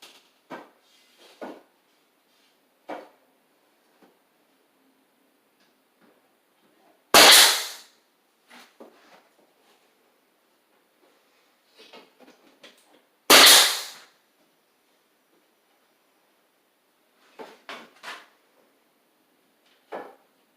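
Nail gun firing nails into trim molding made from rough-cut lumber: two sharp, loud bangs several seconds apart, with quiet tapping and handling noises between them.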